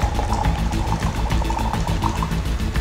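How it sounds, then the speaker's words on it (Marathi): Water pours out of a copper lota, a steady liquid stream running for about three seconds over a low, constant hum. "मी या ठिकाणी या तांब्यामध्ये पुन्हा पाणी काढतो आहे"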